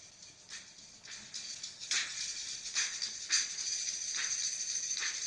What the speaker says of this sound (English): We just set up some drums and some shakers and stuff